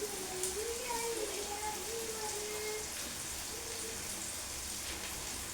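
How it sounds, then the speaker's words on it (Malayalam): Light drizzle falls outdoors as a steady, even hiss throughout, with a faint voice murmuring underneath. "ചാറ്റൽ മഴയാണ് കേട്ടോ."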